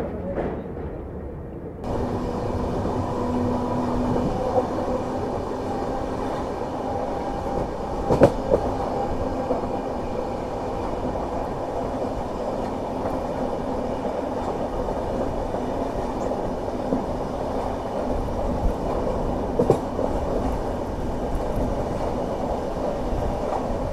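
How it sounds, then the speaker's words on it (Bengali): Express train 12822 on the Puri to Kolkata run rolls along in a steady, loud rumble from inside the carriage, with sharp clicks of rail joints now and then over the continuous drone. "আমাদের ট্রেন এসছে এখন যাজপুর কেওনঝড় রোডে"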